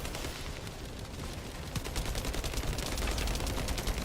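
Rapid automatic gunfire rattles in The First Descendant during a boss fight, dense and continuous bursts of shots that grow louder and more intense toward the end, with no talk over them.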